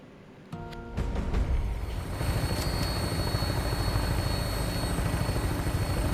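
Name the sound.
Vertibird helicopter landing in video game Fallout 76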